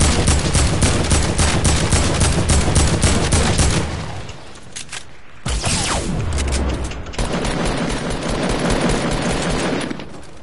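Loud, dense bursts of rapid automatic gunfire in the Fortnite video game, with a sniper shot among them, a continuous fusillade that thins into rumbling battle noise after a few seconds.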